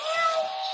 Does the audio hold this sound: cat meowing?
yes